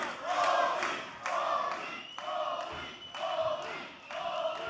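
Raucous wrestling arena crowd in Davis Arena roaring and cheering in loud surging waves, with several swells of shouting voices and a few thuds underneath.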